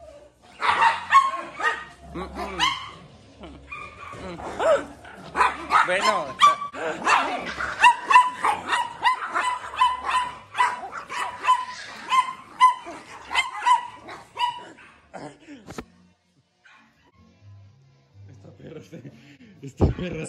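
Two female dogs fight, barking, snarling and yelping in rapid close bursts while someone shouts over them, fading to quieter whimpers and scattered talk near the end.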